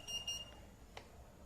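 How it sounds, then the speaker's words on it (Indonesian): A buzzer on a DC UPS module gives two short, fairly faint electronic beeps at the start, then falls silent. "Setelah buzzer berhenti bunyi"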